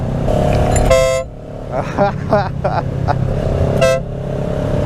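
Two brief, loud honks from an upgraded Kawasaki Ninja 650 horn ring out over steady engine noise, with a voice speaking between them.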